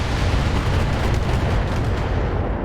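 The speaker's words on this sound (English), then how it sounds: "And the Timberwolf firing again." A Timberwolf mech in the Battletech video game unloads its weapons in a loud, unbroken barrage of booming, rumbling fire that fills the whole short stretch without a pause.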